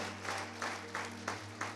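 Rhythmic clapping in a church service, a steady beat of claps roughly three per second over a low electrical hum, moderately close and without talk.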